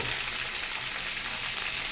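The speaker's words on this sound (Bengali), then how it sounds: "আলু, ডাঁটা, পটল ভেজে নিচ্ছি ভালো করে।" Potato, vegetable stems and pointed gourd sizzle steadily in hot oil in a pan, a continuous close frying hiss with no talking.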